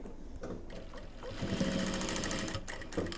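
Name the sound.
sewing machine stitching a bag zipper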